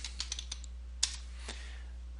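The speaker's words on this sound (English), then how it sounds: "we'll type in some tags that are appropriate, like Atlanta Braves" Tags are typed on a computer keyboard in a few quick light clicks, one sharper keystroke standing out, over a steady low electrical hum.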